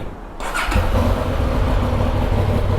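A motorcycle engine catches after a pause and settles into a steady, loud idle close by, with a low rumbling chug that fills the rest of the moment; no one speaks over it.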